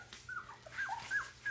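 Four-week-old Lab-Aussie mix puppies whimper close by in high, thin cries, several overlapping whines in quick succession.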